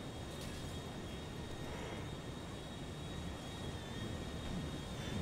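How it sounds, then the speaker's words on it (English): Loud, steady aircraft roar fills the scene in Grand Theft Auto V, a continuous broadband engine drone with faint high whines, no talking over it. "The planes are so loud"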